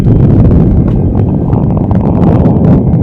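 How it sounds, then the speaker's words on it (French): Steady, loud wind buffeting the microphone at the ancient Maya ruins of Ek Balam in Mexico's Yucatán, a continuous low rumbling roar with no pauses. "Je me suis caché un peu parce que c'est venteux."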